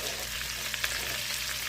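Smoked agouti sausages hit a hot pan, raising a steady, dense sizzle that stays close and even, with a couple of small pops and scrapes, and no talking.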